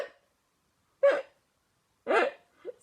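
A voice imitates hiccups for a children's story about a shark, three short, abrupt hic sounds spaced about a second apart with silence between them.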